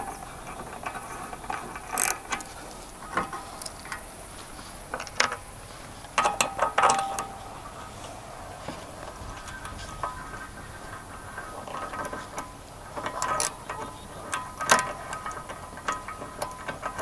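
A socket ratchet loosens the bolts holding a hardtop rack, producing scattered short bursts of mechanical clicking over a low steady background, quiet and intermittent across the span.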